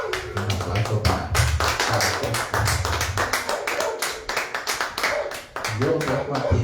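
A church congregation claps together at a Spanish-language Christian service, with a dense, steady patter of many hands sustained throughout over low voices and background sound.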